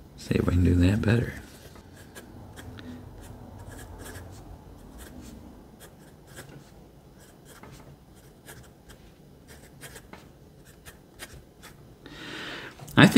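Caliarts Ego piston-filled fountain pen nib gliding over Rhodia paper, a quiet close scratching in short strokes and pauses after a brief loud knock at the start, with slight feedback audible.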